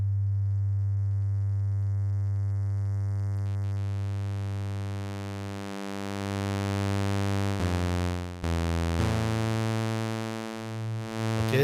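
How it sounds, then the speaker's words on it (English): A GForce OB-1 synthesizer plays a sustained triangle-style sine tone with a slight buzz, steady and loud, rich in even harmonics, briefly dipping and retriggering near the end, with no voices. "I'm gonna make you hear the first triangle sine wave"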